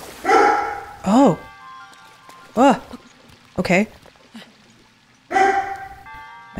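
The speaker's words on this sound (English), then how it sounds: "My dog's barking in the background." A dog barks in the background of a home recording, sharp repeated barks at irregular intervals, some doubled, loud and close between the brief words of a person playing a video game.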